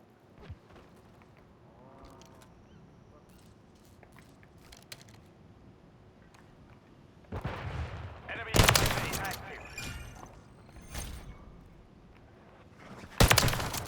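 Gunfire in the video game Call of Duty 3: faint scattered shots early on, then loud bursts of rifle and automatic fire around the middle and a final sharp blast, with someone talking at moments.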